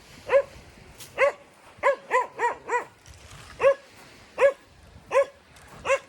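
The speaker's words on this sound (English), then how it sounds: "Really noisy dogs." Loud, close dog barks repeating in an irregular rhythm, several in quick succession, with quiet gaps between, near Lamai Beach, Koh Samui.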